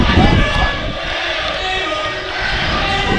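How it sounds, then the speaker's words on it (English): A crowd murmurs and stirs in the stands at a cool-evening football game between the St. Clair Saints and Quinte Skyhawks, with a commentator talking over the broad, steady hum of the spectators. "there's a fair crowd here"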